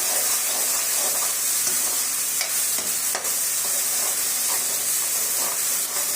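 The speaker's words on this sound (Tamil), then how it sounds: "அரைச்சி வச்சுருக்கிற சின்ன வெங்காய பேஸ்ட்டு சேர்த்துக்கலாம் இப்போ நல்லா வதக்கி விட்டுக்கலாம்" Ground shallot paste frying in a hot pan for goat lung gravy gives a loud, continuous close hiss with some steam, under occasional stirring scrapes.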